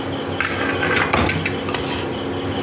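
A utensil scrapes and clatters against a pan as lentils are stirred into an egg curry, giving quick close knocks over a dense background hiss, with no talk.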